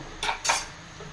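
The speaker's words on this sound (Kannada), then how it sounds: "ಈಗ ಇದನ್ನು ಚೆನ್ನಾಗಿ ಮಿಕ್ಸ್ ಮಾಡ್ಕೋಬೇಕು" Mutton and fenugreek leaves being stirred together in a pan, giving two short metallic scrapes of a utensil against the pan, close and fairly loud, with quiet between.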